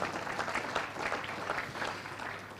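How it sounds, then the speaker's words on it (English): An audience at a junior football league best and fairest awards night gives a sustained round of applause, dense clapping that fades slightly toward the end. "A big round of applause."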